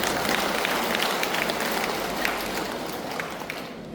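Sustained, thick applause from a congregation at a Buddhist dharma service in a temple. The crowd's clapping runs continuously like steady rain and fades slightly toward the end.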